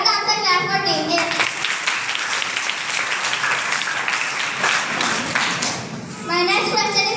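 Children break into a burst of applause after a correct answer in a team quiz competition, with clapping filling most of the stretch and voices speaking at the start and end.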